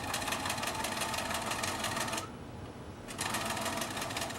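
A sewing machine back stitches elastic on bloomers, running in a loud, rapid, even chatter up close. It pauses for about a second, then starts again at the same pace.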